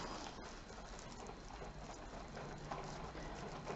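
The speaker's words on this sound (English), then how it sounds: "it is seriously raining outside" Heavy rain falls outside a house as a steady, dense hiss that stays even throughout, fairly faint and with no one talking.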